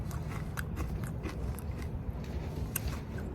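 Someone chews crispy fried puffs close to the mic, with steady crunching and bites repeating over about three seconds, no talking.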